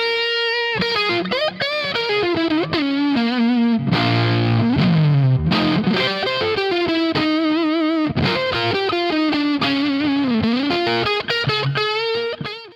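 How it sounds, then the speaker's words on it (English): Distorted electric guitar with a room echo effect, dialed for the Jimi Hendrix Red House tone from Are You Experienced, playing loud, sustained bluesy lead lines with bends and a lingering ambient tail, no talking. "This is not a delay, it's an echo, and it's the natural behavior of the room that we recreate."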